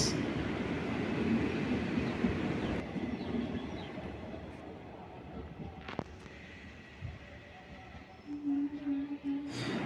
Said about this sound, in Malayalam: പരശുറാം എക്സ്പ്രസ്